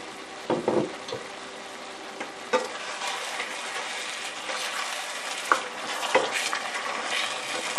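Egusi sauce simmering in a pot, with a soft continuous sizzle broken by several stirring scrapes and clinks of a utensil against the pot, close and without talk.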